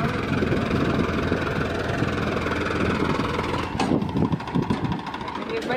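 A Farmtrac tractor engine runs with a steady, rough mid-to-low rumble on a farm, with loud speech heard over it throughout.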